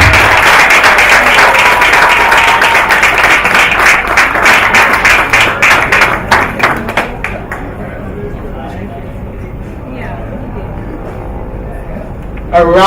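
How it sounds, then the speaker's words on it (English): Audience applause at the Values Icon Awards 2014 ceremony: loud, dense clapping fills the room for about seven seconds, then thins and fades into quieter hall ambience. "A rousing round of applause."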